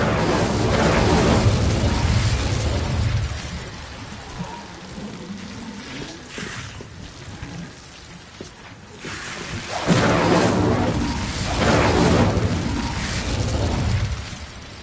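An Incendio fire spell is cast in a Hogwarts video game: a loud, rushing, crackling burst of flame that eases off mid-clip, then roars up again in a second strong surge, with no talk.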